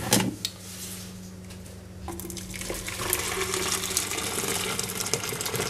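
Boiled water from a jug is poured into a container while making yoghurt from scratch, a splashy trickling stream that starts after a few clicks and thuds and keeps running steadily, close by, with no talking.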